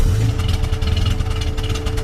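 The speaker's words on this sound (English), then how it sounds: "They even got the engine sounds right. I would say that sounds so awesome. That's the old slant 6." An old slant-six car engine sound effect from the animated film Cars, with a low, steady idling rumble carrying a faint rhythmic knocking pulse, fairly loud and continuous with no talk over it.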